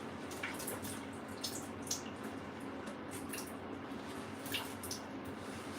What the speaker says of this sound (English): So that's just dripping.